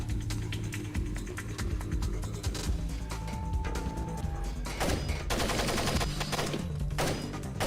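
Gunfire from Tom Clancy's Splinter Cell rattles in rapid automatic bursts and scattered shots, loud and close, running through the whole stretch with no talk.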